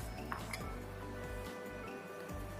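Sliced eggs and long beans set into a bowl bring soft clinks and knocks of dishes and utensils, close and quiet over a steady low hum, with no talk.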